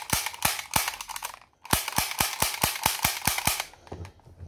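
A small semi-automatic BB gun fires a rapid string of sharp, close snaps: six shots, a brief pause, then about a dozen more at an even, quick rhythm, with nobody speaking.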